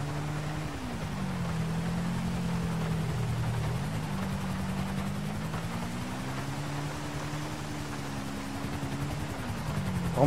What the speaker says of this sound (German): Jetzt kommen die alle mit dem Hubschrauber.